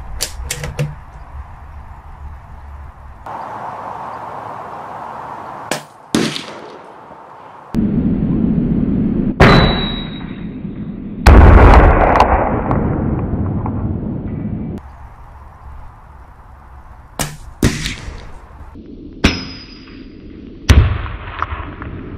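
Loud, sharp shotgun reports from 49-year-old Eley Wasp No.1 cartridges at an outdoor range, several separate blasts spaced seconds apart, each with a sudden onset and a short decaying tail over steady background noise.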